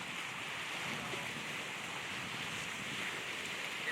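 Waves roll onto the Lake Erie shore at Avonia Beach, a steady loud wash of surf mixed with wind buffeting the microphone, continuous with no speech.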